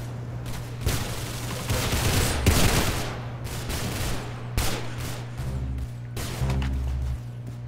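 Rapid AK-47 bursts in a video game, loud repeated volleys and heavy booms stacked over a low constant hum, with short gaps between the firing.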